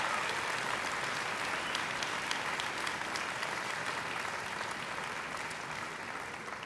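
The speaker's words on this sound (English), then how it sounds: "let's give the family members and friends that are here a round of applause for all their support." A commencement crowd at Millersville University's 2014 winter ceremony applauds the graduates' family members and friends; the sustained, dense clapping fills the hall evenly, fading slightly toward the end.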